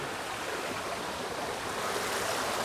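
Flowing water of a garden stream beside a winding path on the grounds of a large mansion, a steady, close, broadband rushing and splashing that fills the space without pause or voices.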